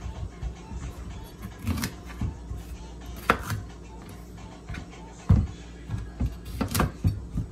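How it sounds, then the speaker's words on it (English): Knife chopping through the ends of plantains on a cutting board, a handful of separate sharp cuts and knocks spaced a second or two apart, close by over low kitchen background. "we're gonna get into our plantains, our plantains, and we're gonna cut the edges off, each one"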